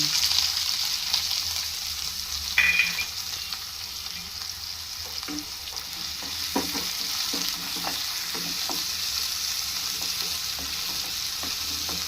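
Two thinly sliced onions fry in hot oil in a pan for a Telugu broad bean and tomato curry. They give a steady, close sizzle with stirring clatter throughout and no talk.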